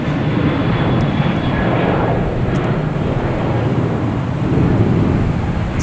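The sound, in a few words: American Airlines airliner flying at Boston Logan Airport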